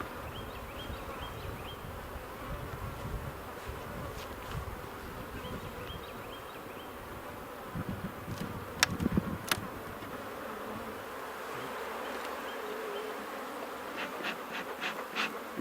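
Honey bees drone steadily around an open hive during a beekeeping inspection, a dense constant buzz close by with occasional nearer fly-bys and faint clicks.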